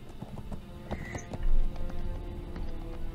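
Horse Providence in the game Splatterhouse, with steady clip-clop hoofbeats, a whinny and nearby snorting, all fairly close and with no talk over them.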